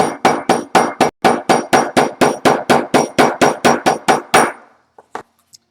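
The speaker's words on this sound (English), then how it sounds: "it's really nice to have a hammer like this that you can tap all your stitching nice and flat with" A polished hammer taps leather stitching flat in a steady run of about twenty sharp, evenly spaced knocks. The close, loud strikes stop, then a few faint taps follow.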